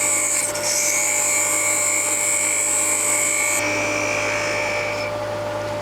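Wood lathe shear cut with a Nano Revolution hollowing tool, a steady high-pitched whine over a constant motor hum, shifting in tone partway through as the cut changes.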